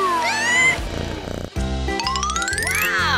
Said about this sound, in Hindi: आपकी बिल्ली मिल गई।